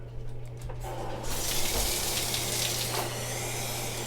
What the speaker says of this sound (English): So you can see the problem we're having when I turn the water on.